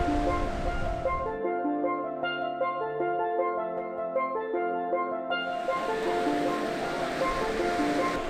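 Ocean waves break on a black sand beach in the Azores, a loud, rushing surf at the start and end with a tonal musical passage covering the middle.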